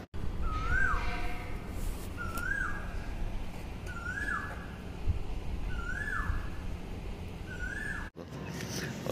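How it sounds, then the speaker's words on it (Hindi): A bird repeats a clear whistled call about every second and a half, five times in a row, over faint outdoor morning background noise. "आप सब सुन सकते हैं ध्यान से कि चिड़ियों की कितनी तेज़ आवाज़ आ रही है।"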